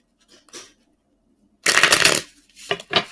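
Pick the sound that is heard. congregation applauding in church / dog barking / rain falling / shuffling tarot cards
shuffling tarot cards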